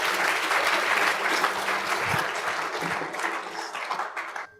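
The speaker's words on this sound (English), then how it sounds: "So let's give another round of applause for those great pictures." A loud burst of audience clapping at a student entrepreneur competition event fills the space and then slowly tapers off.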